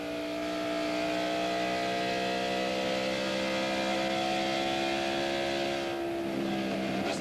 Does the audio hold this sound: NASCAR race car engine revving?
yes